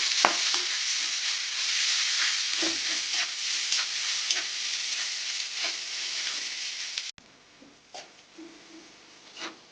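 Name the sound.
chopped onion and green chili frying in oil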